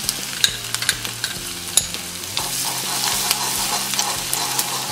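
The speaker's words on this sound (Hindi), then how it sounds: "अब इसमें हम ये हींग डालेंगे और साथ में ही ये जो लहसुन हमने बारीक करके लिया था ये इसमें ऐड करेंगे।" Minced garlic and asafoetida hit hot oil alongside crackling mustard and cumin seeds for a dhaba-style dal palak tempering, giving a steady close sizzle with scattered sharp pops and spoon-scraping stirring throughout.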